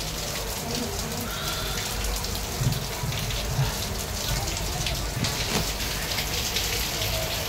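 Heavy monsoon-like rain in the narrow lanes of a Mumbai neighbourhood, a dense, continuous patter and splash close by with a few louder drips, and someone talking faintly beneath it.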